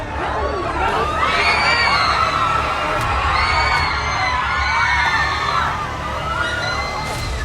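A large outdoor crowd presses around actor Allu Arjun during his police arrest, a loud continuous roar of cheering, whoops and shouting voices that swells and holds steady throughout.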